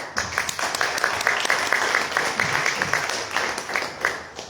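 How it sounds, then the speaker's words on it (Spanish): Audience applause welcoming a speaker at an academic history conference session, many hands clapping in a dense, steady patter from a modest crowd, moderately loud and continuous throughout. "Le damos un aplauso, por favor."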